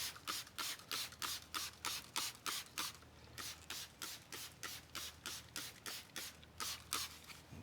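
A handheld trigger spray bottle sprays CS3 cleaner onto a car in rapid repeated pumps, each a short, crisp hiss in steady rhythm, close and clear with no talking.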